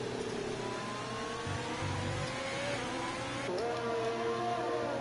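Simulated Ferrari race car engines rev and whine in a racing video game, several pitches rising and falling together as two cars battle closely, steady and continuous throughout.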